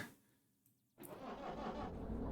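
Diesel locomotive engine cranking to life in Derail Valley: a quiet idle hum, then a sudden starter catch at about one second as the motor fires and settles into a loud, steady rumble.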